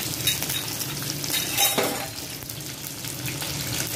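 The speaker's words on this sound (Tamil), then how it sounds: "பட்டை கிராம்பு ஏலக்காய் எண்ணெய் வச்சு போட்டுக்கணும்" Cinnamon, cloves and cardamom fry in oil for a beetroot pulao, a steady close sizzle with faint watery crackle and brief stirring scrapes throughout.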